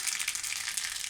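Mustard seeds sizzle and crackle in hot oil for a Gujarati amla rasam tempering, a steady, close, bright frying hiss with no voices.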